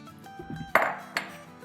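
A metal lid is set onto a pot of nihari, making two close, light metallic clinks in quick succession over a soft background.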